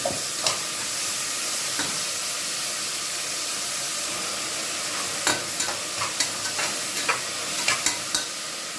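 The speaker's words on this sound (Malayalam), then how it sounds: "ഉള്ളി നന്നായി വഴറ്റിയിട്ടുണ്ടെങ്കിൽ അതിലേക്ക് തക്കാളി ഇടാം." Tomatoes go into sautéed onions in a frying pan for a mutton curry, with a loud, steady sizzle and hiss throughout, broken by scattered sharp clinks of stirring near the end.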